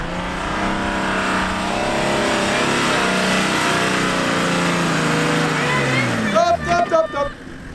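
A vehicle engine revs hard at full throttle while driving through sand on a beach, the roar rising in pitch and staying loud and close, with voices talking over it near the end.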